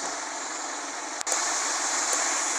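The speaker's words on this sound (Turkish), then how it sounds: "Zaten video başladığımız zaman direkt yağmur başladı." Rain falls steadily on a Mercedes Actros 1851 truck during a road trip, a dense, even hiss of drops on the cab that holds constant throughout, with one brief dip near the middle.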